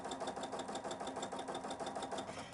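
Bernina sewing machine stitching a decorative eyelet, a quiet steady rapid mechanical chatter of the needle with an even, fast repeating rhythm and no talk.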